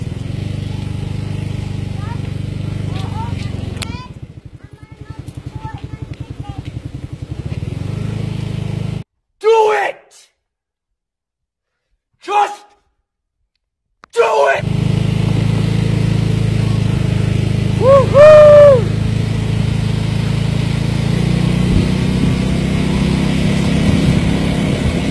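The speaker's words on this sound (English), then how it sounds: "Driving motorbike." A motorbike ridden on the roads of Siargao in the Philippines gives a steady engine drone and wind rush. The sound breaks off twice with short quiet gaps, and a voice speaks over it.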